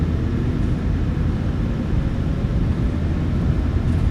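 PMDG 737-900ER engines in a flight simulator spooling to takeoff power, a loud, dense, steady roar with deep rumble and no voices over it.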